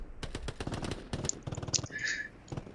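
Machine gun fire in the video game Hell Let Loose rattles out in several rapid bursts separated by short pauses. It is loud and close, with a few sharp pings and a brief high tone near the end.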